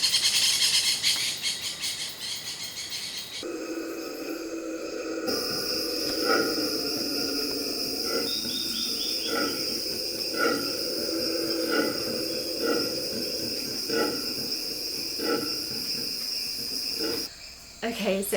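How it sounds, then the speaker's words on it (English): Howler monkeys calling around a lodge deep in the Peruvian Amazon: a sustained, distant low roar under a dense, steady chorus of crickets and insects, with no talk. "that was the Howler Monkeys, and they are just all around. It's such a cool sound, but very eerie"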